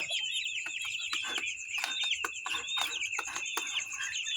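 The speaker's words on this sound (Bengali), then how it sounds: "মুরগিরা খাচ্ছে, এখন খাবার দিয়েছে।" Broiler chickens clucking and chirping together while eating in a steady chorus, with scattered pecking taps underneath, fairly close and continuous.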